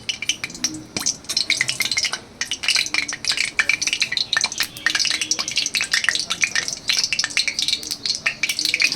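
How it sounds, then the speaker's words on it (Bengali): Dried red chillies and black cumin fry in hot oil in a wok, a steady crackling sizzle with bursts of spitting and occasional utensil scrapes throughout. "কড়াইতে তেলটা দিলাম, এবার আমি এর মধ্যে দিচ্ছি দুটো শুকনো লঙ্কা।"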